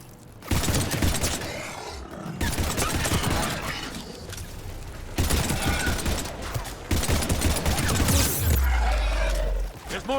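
Rapid automatic gunfire from a sci-fi shooter battle in Mass Effect Andromeda, sustained bursts that run almost unbroken, loud and close, mixed with game effects.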